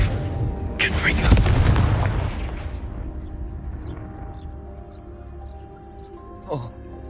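A Confringo blasting spell explodes in the video game Hogwarts Legacy, a loud booming burst that swells and then rumbles away over several seconds, followed by a brief smaller pop near the end.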